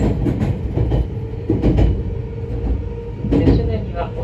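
Nagano Electric Railway Yukemuri limited express running between Obuse and Nagano, with a steady rumble and rhythmic rail clicks from inside the car while an onboard announcement voice speaks.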